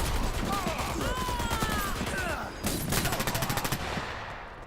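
Gunfire from a first-person shooter video game match, heard as dense, loud bursts of rapid automatic shots that end in a fast rattling volley amid other busy game noise.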